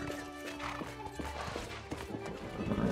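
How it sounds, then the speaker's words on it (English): Horse hooves clip-clop in a quick, regular rhythm in the Bless Unleashed game world, fairly close and clear over a busy background of game music and ambience. "Can I pet the horse?"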